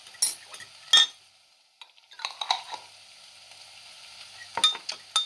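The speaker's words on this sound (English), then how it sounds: "You'll probably hear the onion and the dry curry mix sizzling." Soft frying sizzle of onion and dry curry mix in a pan, with a few sharp clinks and scrapes of a spoon stirring, quiet and close.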